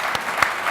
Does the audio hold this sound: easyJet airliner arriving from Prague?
no